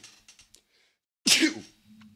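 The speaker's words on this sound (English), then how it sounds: "I'm going to sneeze again." A single sharp, loud sneeze bursts out close by after a moment of quiet, preceded by faint breathy sounds.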